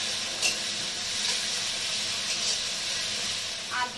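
Tomato paste hitting onions frying in hot oil while cooking a Bengali pabda fish curry, giving a steady, close hiss and sizzle that runs unbroken throughout with a few brief clinks over it.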